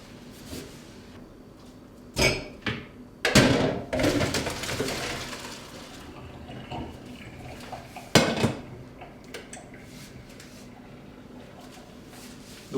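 Clanking of a metal pot and lid with splashing and pouring water as cooked vegetables are drained, bursts of clatter separated by quieter sloshing.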